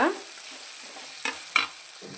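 Mixed vegetables for vegetable fried rice stir-frying in a pan, a steady sizzle with two short scraping stirs near the end, close and alone without voices.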